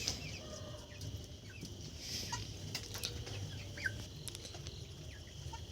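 Desi chickens on a small farm flock of about thirty birds, soft scattered clucks and calls over a low, steady ambient hum, with a few sharper chirps rising briefly; no talking.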